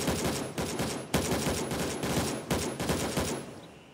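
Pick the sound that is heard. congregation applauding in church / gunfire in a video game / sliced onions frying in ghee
gunfire in a video game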